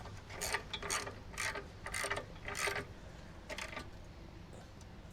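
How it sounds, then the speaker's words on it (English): A torque wrench ratchets in a series of short clicking strokes while it tightens a bolt on an Outfitr 2-bike e-bike rack. It is close but quiet, and there is no talk. "I'll get my torque wrench and torque that"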